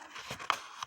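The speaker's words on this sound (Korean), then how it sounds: "책장 넘기는 소리." Book pages are turned by hand in a quiet room, with a few soft, close papery rustles and a light flick, all brief and faint.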